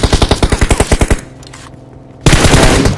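Rapid automatic gunfire rattles in a fast burst while a video game squad is shot down, pauses into a quieter stretch, then resumes loud and dense.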